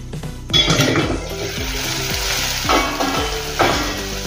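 Potato and eggplant curry sizzles in a pan as a spoon stirs it, giving a loud continuous fry with repeated scraping strokes and clinks of metal against the pan in an uneven rhythm.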